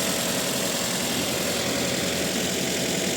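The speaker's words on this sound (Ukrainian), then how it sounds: "Мотор шепчет." A car engine idling in a garage, on a vehicle with an accident-damaged gearbox, gives a steady, even hum with no change in pitch over a few seconds and no voices.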